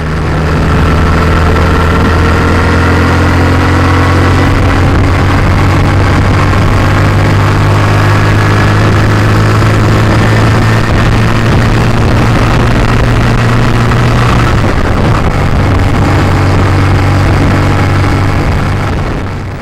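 A motorcycle carries riders along quiet country roads, its engine giving a steady, loud low drone with a slight dip partway through, and no talk heard.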